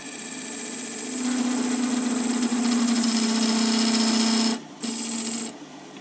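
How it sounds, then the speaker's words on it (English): A piece of cherry wood spinning on a lathe hums and buzzes with a loud, steady vibrating drone that rises in intensity, then briefly cuts out and resumes, with no speech. "That's the wood vibrating there."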